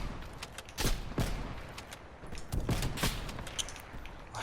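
Sniper rifle shots from the video game Call of Duty Cold War, a few sharp cracks spaced irregularly over quiet background noise, moderately loud.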